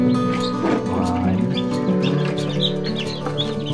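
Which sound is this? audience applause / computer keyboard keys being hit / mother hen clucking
mother hen clucking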